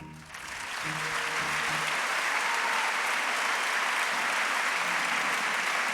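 At an award gala in Galicia, an audience breaks into applause for an honoree, the clapping swelling quickly to a full, sustained roar that holds steady under a brief opening voice.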